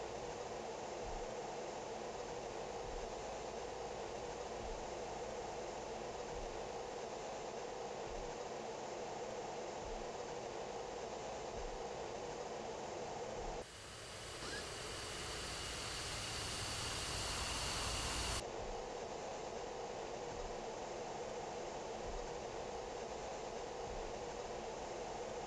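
F-15E jet engines idling and spooling slightly while taxiing in a flight simulator game, a steady loud whine and roar, with a brighter rushing surge midway before settling back.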